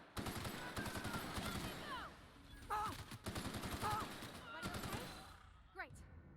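Rapid bursts of automatic gunfire from combat in The Outer Worlds, with dense strings of shots and sharp weapon effects, interrupted by brief lulls and joined by other game sounds and a voice.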